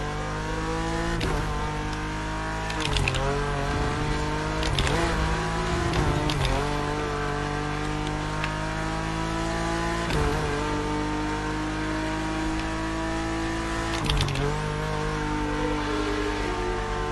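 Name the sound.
race cars on rumble strips drifting around corners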